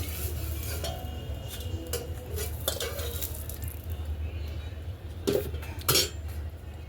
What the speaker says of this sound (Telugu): ప్లేట్లు వేసుకుందాం